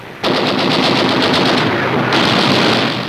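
Sustained machine-gun fire in a WWII South Pacific jungle battle, with rapid continuous bursts that start abruptly and roar loud and close for about three seconds on an old newsreel recording.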